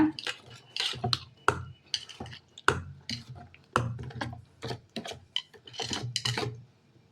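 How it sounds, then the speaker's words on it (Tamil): Toor dal adai batter being stirred in a bowl with a spoon, giving a series of irregular scraping knocks and wet clinks, close and fairly soft, with no talking. "இப்போ மாவை நல்லா கலக்கிக்கோங்க"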